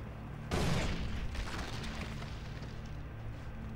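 A grenade goes off in the shooter game Far Cry 3 with one loud, broad boom that rolls off into a long rumbling tail. No one speaks over it.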